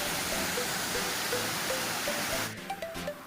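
A steady rush of falling water at Yerkampalem waterfalls near Rajahmundry in the Godavari region, a broad constant roar with faint tonal chirps over it, easing slightly near the end.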